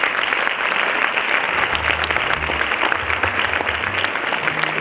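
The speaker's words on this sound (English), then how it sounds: "That really calls for another big round of applause." An audience claps steadily at an academic talk on classroom diversity, the dense applause loud and sustained throughout, with a faint voice murmuring partway through.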